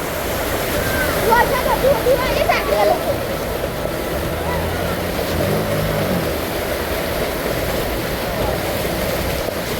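A vehicle pushing through a waterlogged street during heavy rain, with a constant wash of rain and water surge, engine rumble swelling midway, and people talking and calling out over it.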